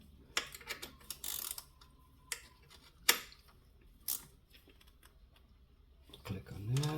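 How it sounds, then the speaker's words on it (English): Ratcheting box-end wrench clicking on a fastener during PCV valve and hose work on a 2005 Ford Focus: faint, sparse, quiet clicks and ticks spread over several seconds, with soft speech near the end. "we'll just use the ratcheting box end and click on that"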